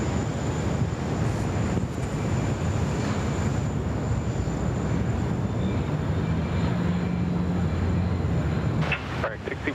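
A British Airways airliner arriving at Sydney Airport, a broad, steady jet roar with wind buffeting the microphone, sustained and fairly loud, with voices heard over it.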